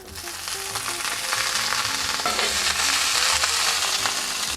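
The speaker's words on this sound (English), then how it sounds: "You add a little bit of oil to your cast iron skillet. I'm gonna add all of this, and it cooks really quickly." Broccolini fries in oil in a cast iron skillet, giving a steady, close hiss and sizzle that swells slightly as it cooks, with no talking.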